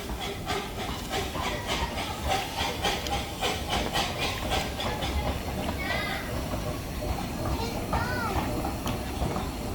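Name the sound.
miniature coal-fired steam train hissing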